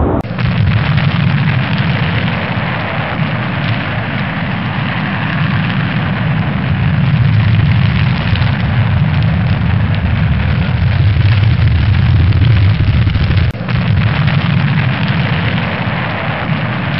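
A rocket lifts off with a loud, steady, rumbling roar that fills the whole stretch without a break, dense and low like continuous thunder.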